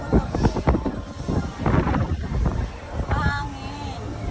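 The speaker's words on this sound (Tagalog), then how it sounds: "Mahangin kasi." Gusty wind buffets the microphone on a Ferris wheel gondola with low rumbling rushes while a person talks over it.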